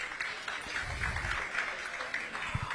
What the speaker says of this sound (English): A huge round of applause to them.